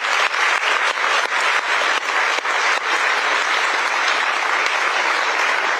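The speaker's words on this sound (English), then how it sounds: "Round of applause for Jane, please." An audience at a Georgetown University Law Center lecture by Chief Justice Roberts gives a sustained round of applause, dense and steady clapping filling the room at close range with no talking over it.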